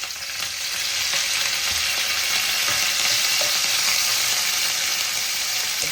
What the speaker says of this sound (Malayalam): കുറച്ച് വേപ്പിലുണ്ട്, ആ വേപ്പില ഇട്ട് കൊടുക്കാം ആദ്യം.